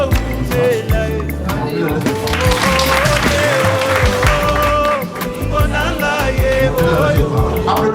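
Wedding guests applaud the couple at an official civil marriage ceremony, a dense crowd din of clapping and cheering mixed with tonal music-like sounds and voices, loud and continuous.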